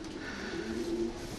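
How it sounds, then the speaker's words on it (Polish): A racing pigeon, a breeding cock from 2002 bought in Putte, coos softly and steadily through a short, continuous stretch over a faint room hum. "Gołąb o numerze 880 z 2002 roku, zakupiony u Karela Jansensa w Putach."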